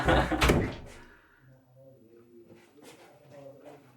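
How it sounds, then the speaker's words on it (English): A door being shut indoors in a hair replacement studio gives a loud thud at the start, followed by quieter room sounds with people talking. "I better shut the door again."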